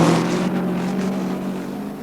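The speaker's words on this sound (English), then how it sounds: "An example of what you can do with a wholly British engine setup is Johnny Whitmore's Dragonfly, here attempting to break the class terminal speed record." Johnny Whitmore's Dragonfly, a dragster with a wholly British engine, roars down the strip at Santa Pod in 1973 on a class terminal speed record attempt, a loud steady engine drone that slowly fades as it pulls away.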